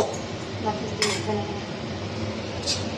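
Lid set onto a pot of simmering fish curry, a light metallic clink followed later by another faint clink, heard over a steady, low kitchen hiss.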